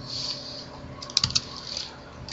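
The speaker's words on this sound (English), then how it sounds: "So we're going to type in here my vacation." A short burst of a few crisp keystrokes on a computer keyboard as a vacation plan is typed in, quiet room tone around a brief cluster of close clicks near the middle, no voices.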